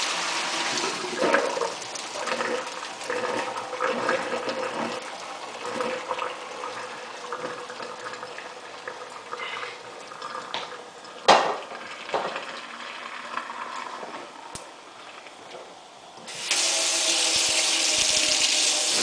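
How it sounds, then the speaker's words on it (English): Water and cooked rice for dillweed and fava bean rice pouring into a strainer in a kitchen, a steady splashing drain with clatters and a sudden louder rush near the end. "Now I'm going to drain this and rinse this in hot water."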